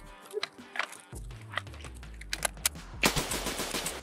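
Gunfire in the Escape from Tarkov video game, a scattering of sharp single shots followed by a denser burst of rapid fire toward the end, with a low background rumble.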